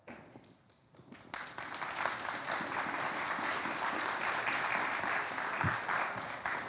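An audience at a synagogue talk welcomes a rabbi with sustained, dense applause that swells quickly after a quiet start and holds loud and steady to the end.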